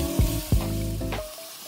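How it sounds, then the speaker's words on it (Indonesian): Chilies sauté in a pan with a steady sizzle, two heavy thuds of stirring against the pan early on, then the frying settles and fades toward the end. "Sekarang kita masukin cabai-cabeannya. Terus kita tumis, kita masak sampai mateng semuanya."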